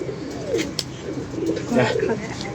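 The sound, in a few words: pigeons cooing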